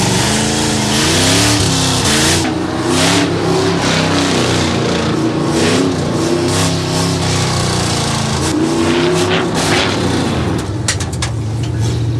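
A revived race car accelerates hard on a track, its engine roaring loud and close, climbing in pitch through repeated gear pulls with steady road and wind noise throughout.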